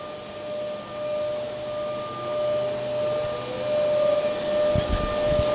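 Spindles of a Hydromat 3000 rotary transfer machine spin up to speed, producing a steady rising whine with sustained tonal hums over low mechanical rumble, with a few louder knocks near the end.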